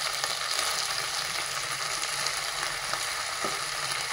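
Tomatoes sizzle in a hot pan for a meal maker biriyani, a dense, even frying hiss that holds steady throughout with faint crackles and no talk.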